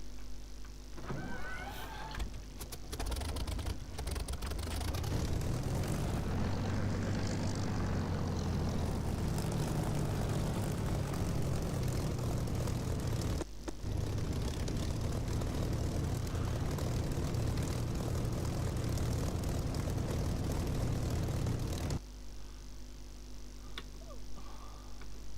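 A propeller aircraft engine in the DCS flight simulator spools up for takeoff, rising into a loud, steady drone that holds for about twenty seconds, dips briefly once, then cuts down to a quieter hum at the end.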